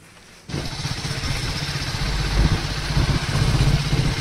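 A motorcycle engine starts and settles into a loud, steady idle with a rough, throbbing rumble close by, no voices over it.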